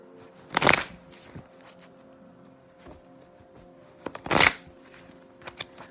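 Angel oracle cards are shuffled in two short, crisp riffling bursts a few seconds apart, close and clear, with faint card taps between them and no talking.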